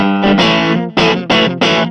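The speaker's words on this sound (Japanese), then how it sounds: "じゃあまずミッドブースト。" An electric guitar plays through a mid boost setting on a BOSS GT-1 or ZOOM G1 FOUR multi-effects unit: loud, lightly overdriven chords struck four times in a quick rhythm, each ringing fully, with no talk.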